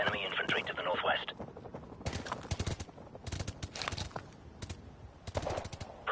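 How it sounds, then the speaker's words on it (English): Covering gunfire in Call of Duty: Modern Warfare Remastered, bursts of rapid shots crackling in a chaotic firefight, layered under voices and other battle noise throughout. "Give me some covering fire."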